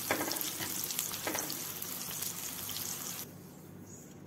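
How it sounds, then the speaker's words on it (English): Constant crackling sizzle of potatoes frying in hot oil, close and fairly loud, with a few stirring scrapes. "now I will be frying the potatoes in the same oil"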